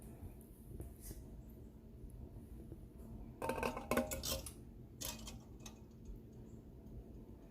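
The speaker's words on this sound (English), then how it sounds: "I'm going to put my jars in." Two glass canning jars set onto a metal rack inside a pressure canner give a short cluster of clinks and taps midway through, over a steady low background hum.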